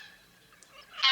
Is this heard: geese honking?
yes